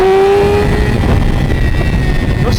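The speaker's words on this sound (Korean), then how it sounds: "엔진은 막 올라가는 것 같은데" A Yamaha R6 motorcycle engine revs high and loud while riding, the sustained whining tone of the high-revving inline engine holding close over road and wind rumble, no voices.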